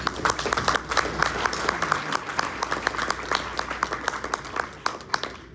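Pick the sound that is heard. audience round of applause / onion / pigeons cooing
audience round of applause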